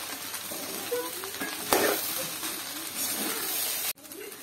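Cauliflower Gobi 65 fried rice stirred in a hot pan, a steady close sizzle with scraping and rattling spoon strokes running throughout, one sharper clatter midway, then cutting off abruptly near the end.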